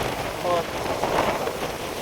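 Rain falling outdoors on a trip to Guhagar, a steady, even hiss that fills the whole moment, with a faint tonal sound briefly rising through it.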